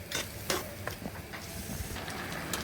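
Pointed gourd (potol) with potato curry sizzles in a pan, a soft, steady frying hiss broken by occasional scraping stirs and light clinks from the spoon.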